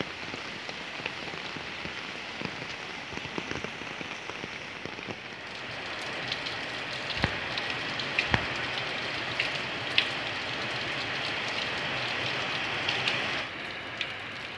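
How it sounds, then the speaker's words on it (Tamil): Heavy downpour pounding steadily on surfaces, a dense continuous hiss of rain with scattered louder drop impacts, close and loud throughout with no talking. "அடித்து நொறுக்கும் அடைமழை."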